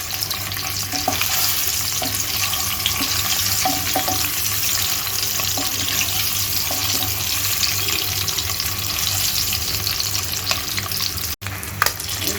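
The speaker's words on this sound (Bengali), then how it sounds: "তো চুলোর আঁচটা আমি মিডিয়ামে রেখে ডিমগুলোকে ভেজে নিচ্ছি।" Eggs frying in a pan over medium heat while cooking a chana dal and egg curry, a steady continuous sizzle with faint clinks of stirring, no talk.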